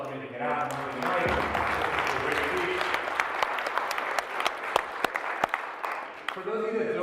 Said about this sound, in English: Everyone give yourself a round of applause for making it out tonight.